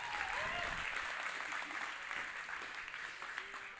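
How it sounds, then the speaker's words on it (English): An audience claps together in a sustained burst of applause that carries across the whole stretch at an even level, with a faint murmur of the crowd underneath. "Let's do one more clap."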